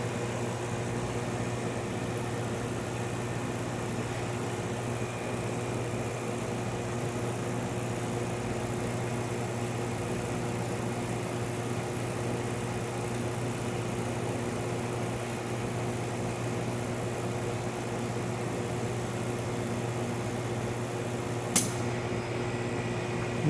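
A YES vapor prime oven refilling its chamber with nitrogen produces a steady low mechanical hum with constant tonal drone and a faint hiss, unchanging throughout, with one brief click near the end.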